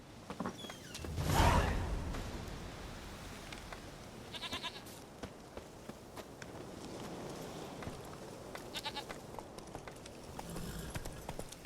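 Roach the horse gallops in The Witcher 3, with rhythmic clip-clop hoofbeats on the ground, quiet and steady throughout, and a louder burst of movement near the start.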